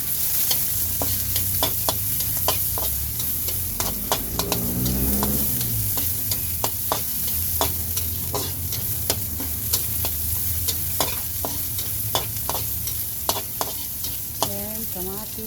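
Garlic and onion sauté in a hot pan for an eggplant dish in oyster sauce, with a constant sizzle and repeated sharp clicks and scrapes of a utensil stirring, close and continuous.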